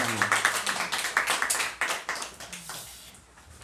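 Church congregation at a Sunday worship service clapping in a burst of applause that fades out over a few seconds, moderately loud and reverberant, with no talk.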